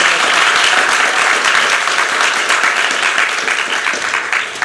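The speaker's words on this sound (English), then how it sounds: "Let's give them a round of applause." An audience at a visiting artist lecture breaks into loud, sustained applause, a thick continuous roar of many hands clapping that eases only slightly toward the end.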